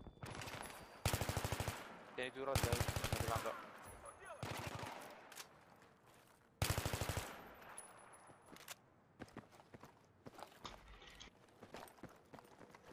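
Bursts of automatic gunfire in a shooter video game, several loud rapid volleys with scattered single shots and footsteps between them, while players talk over the action.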